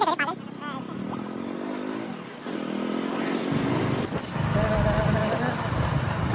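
A car engine hums and rises steadily on a long family drive, heard from inside the vehicle under people talking nearby.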